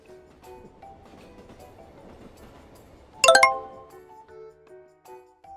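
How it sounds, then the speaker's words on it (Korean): Inside a Seoul subway train pulling away from the station, a faint low rumble runs under soft chimes and tones, with a sudden bright metallic clink partway through. "지하철이 출발해요."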